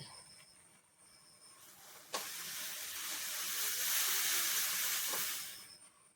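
A herbal hair dye mixture boils on a stove with a loud, airy steam hiss that swells and then fades, marked by a sharp click near its start.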